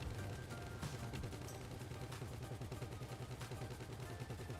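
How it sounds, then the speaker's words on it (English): Gunfire in GTA Online as gunners shoot out of the back of a moving vehicle during a heist, a dense, continuous crackle of shots over a heavy engine rumble, fairly close and loud. "having the gunners shoot out of the back actually makes it to where we're going to be able to pass this"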